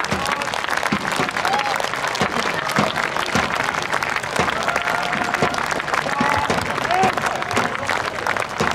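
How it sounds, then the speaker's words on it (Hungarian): Audience applause after a historical military demonstration at a fortress day event, a dense, steady sustained clapping from a crowd, fairly loud and continuous with a few faint whistles or voices mixed in. "És akkor most szerintem érdemes tapsolni"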